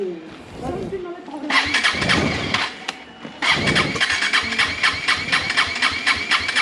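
A KTM Adventure 250 motorcycle struggles to start: a couple of cranking bursts with gaps, then the engine catches and runs at a steady, slightly uneven idle, close by, with some talk mixed in.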